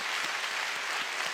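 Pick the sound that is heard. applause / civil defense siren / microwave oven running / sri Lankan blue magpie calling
applause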